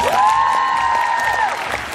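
An audience rehearsing at a university student show claps and cheers loudly, a dense wash of applause with a sustained whistle cutting through for about a second and a half.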